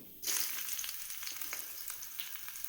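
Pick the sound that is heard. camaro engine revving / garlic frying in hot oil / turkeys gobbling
garlic frying in hot oil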